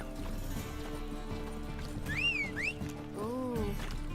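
Horse galloping in the Witcher 3 video game: steady clip-clop hoofbeats run throughout, with a loud whinny in the middle and game music and ambience underneath.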